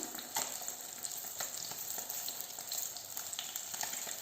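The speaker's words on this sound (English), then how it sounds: "fresh crushed garlic on oil to flavor the fish" Crushed garlic with thyme frying in oil in a pan, a steady soft sizzle with faint crackles and a few small pops, close by and fairly quiet, with no talk.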